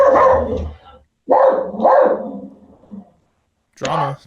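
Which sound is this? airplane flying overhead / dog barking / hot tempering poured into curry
dog barking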